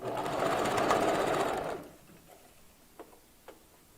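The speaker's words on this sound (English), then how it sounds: "start sewing there and do my back stitch." A sewing machine back stitching a wig weft onto a mesh cap, a fast close whirring run for about two seconds, then stopping, followed by two faint ticks.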